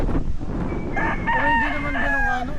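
A rooster near a storehouse with chickens crows loudly and close by in a long, drawn-out call, over clucking and general farmyard noise.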